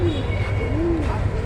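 Bombai fancy pigeons in a Bogura pigeon loft give several soft, low cooing calls over a constant background hum, close by and moderately loud.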